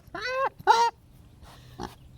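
A pet pig squeals and grunts in two short, loud cries close by, then a few fainter grunts follow.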